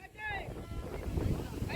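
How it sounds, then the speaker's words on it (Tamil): Wind buffets the microphone outdoors at a cricket match, a rough, gusty low rumble lasting under two seconds, with some voice mixed in. "இப்போ உங்களுக்கே காற்று சவுண்டு கேட்டுட்ருக்கோன்னு நினைக்கிறேன்."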